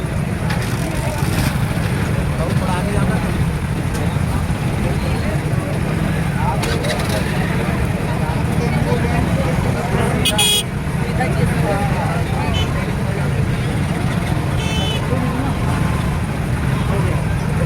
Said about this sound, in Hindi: बहुत सारा गाड़ी निकलत है।